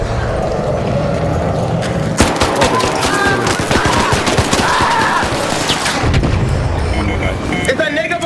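Rapid video game gunfire rattles in dense bursts during an online shooter match, loud and continuous, with excited voices of players talking over it.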